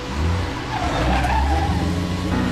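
A car races off with squealing tires and a revving engine, loud and close, the roar building over a couple of seconds with no talk.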